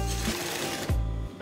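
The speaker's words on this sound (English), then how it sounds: "You are going to be sewing 1/2 inch needle down, and then you sew" A sewing machine stitches fabric and its lining in a short burst. The close mechanical whir runs steadily, is broken by one brief pause, and then resumes.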